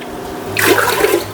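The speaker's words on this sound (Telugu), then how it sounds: "9 గ్లాసెస్ ఆఫ్ వాటర్ అయితే వేస్తున్నాను" Water poured into washed rice and moong dal in a pressure cooker, a short, loud splashing gush close by, with no talk over it.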